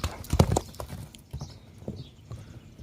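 Horse hooves clip-clopping on the ground, a brisk burst of close hoofbeats at first that then thins into scattered, fainter steps, with no talking.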